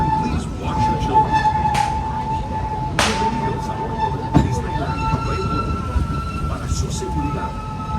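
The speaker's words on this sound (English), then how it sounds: "Sounds like the train's brakes or something are squeaking." A Disneyland train with squeaking brakes, a steady high tonal squeal running throughout over rumbling wheels and rail noise, with a few sharper metallic squeaks and clanks.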